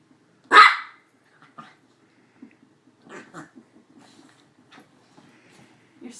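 A pet dog gives one loud, close bark, then a scatter of softer yips, growls and snarls while playfully attacking a person's foot indoors.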